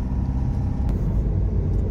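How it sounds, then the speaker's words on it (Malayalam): A KSRTC bus engine rumbles low and steady on a rainy hill road to Kanthalloor, a continuous close drone with no voices. "കാന്തല്ലൂർക്കുള്ള ബസ്സാട്ടേ പോണത്, നമ്മുടെ ആന വണ്ടി."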